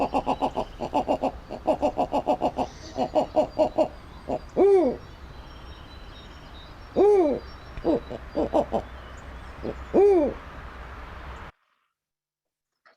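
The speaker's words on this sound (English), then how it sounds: "hopefully this recording will play so we can actually get to hear what a snowy owl sounds like" Snowy owl calling, a rapid run of clipped chuckling notes followed by several deep, drawn-out hoots spaced a few seconds apart, loud and close with no other sounds.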